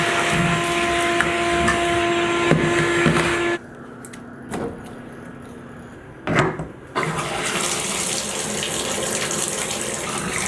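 Water runs hard from a newly installed tap in a house under construction. The steady loud rush drops away for a few seconds, with a couple of knocks in the gap, then surges back at full flow.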